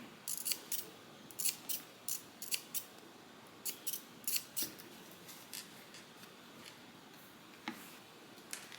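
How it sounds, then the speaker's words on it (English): Scissors snipping through fabric for a Soraya Divider Bag, a series of crisp close cuts in short irregular runs, with a few pauses between strokes. "So I'm going to cut one way, turn it, and cut the other way."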